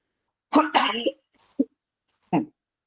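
A burst of coughing up close, followed by two short separate coughs after brief pauses.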